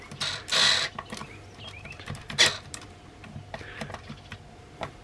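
An old pencil sharpener grinds a piece of fatwood, giving short scraping and clicking bursts at an uneven rhythm, close and fairly quiet.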